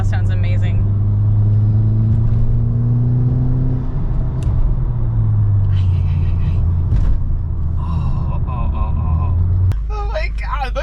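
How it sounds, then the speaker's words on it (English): Volkswagen MK5 GTI engine and exhaust revving and pulling, a strong deep drone with sliding pitch and a sudden drop near the end, while people speak excitedly over it. "This exhaust sounds amazing."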